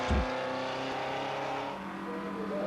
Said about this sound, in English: Reinhard Strobel going wide in his Spider Veloce